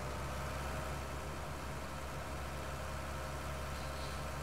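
Tractor engine idling in a farming simulation game, a steady low mechanical drone with even rumble held at constant level throughout, no voices over it.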